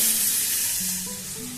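Freshly ground spice paste for Bengali shukto hitting a hot pan, a short broad hissing sizzle that starts strong and slowly eases, heard close up, with a faint tonal hum underneath.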